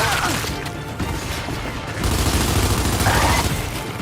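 Gunfire in the video game Gears 5 crackles in dense, continuous bursts with booming impacts, loud and chaotic throughout, with co-op players faintly talking underneath.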